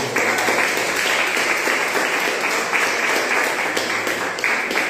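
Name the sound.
congregation applause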